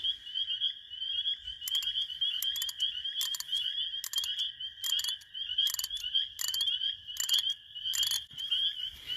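A toad calls steadily in a high, buzzing ree trill, broken into about eight short repeated pulses, near and clear over a quiet background.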